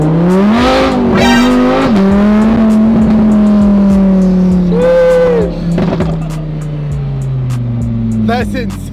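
A Lamborghini sports car engine revs loudly from inside the cabin, pitch climbing and falling through gear changes, with people talking over it.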